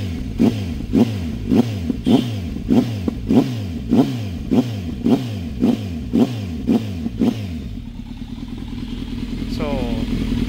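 A motorcycle with a slip-on exhaust, a Kawasaki Z900 or Benelli 600i, revs close up in a steady series of about ten sharp throttle blips, then settles to a rumbling idle.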